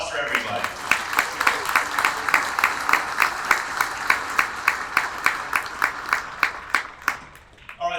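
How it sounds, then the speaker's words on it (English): An audience applauds at a 2022 community athletics awards ceremony, a rhythmic wash of claps with regular accented beats running steadily for several seconds. "big round of applause for everybody"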